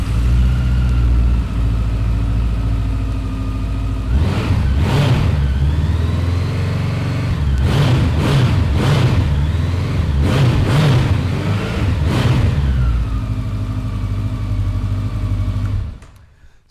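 Honda CB1100EX motorcycle engine starting, then idling with a deep steady rumble broken by several sharp throttle blips and revs, close and loud, before cutting off at the end.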